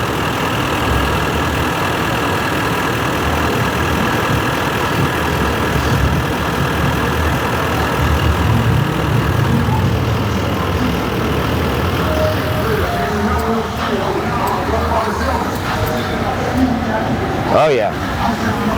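A car engine idling with the A/C compressor clutch engaged, a steady continuous mid-low drone throughout, close and loud, with a voice talking over it near the end.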